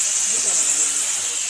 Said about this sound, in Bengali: এই বড় বড় রূপচাঁদা মাছ ভাজছি